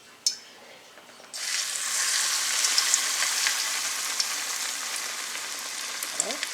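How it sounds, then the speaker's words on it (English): Chicken coated in Flamin Hot Cheetos batter drops into hot grease and sets off a loud, steady sizzle and crackle close by, with faint pops throughout. "we're going to stick them in the grease and see how this goes"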